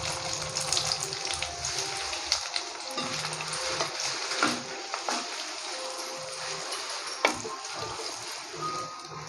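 Sliced small onions, 150 grams, hit hot oil already seasoned with stone flower, a single cardamom pod and cloves for a coconut milk chicken curry, giving a steady, close sizzle with light stirring scrapes throughout.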